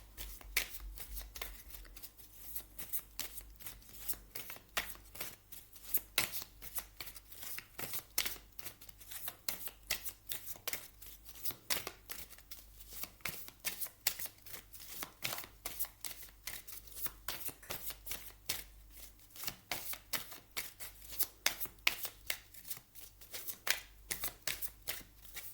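A deck of oracle cards is shuffled by hand in a rapid, continuous stream of crisp riffles and slaps, close and fairly quiet, repeating steadily for the whole stretch without talking.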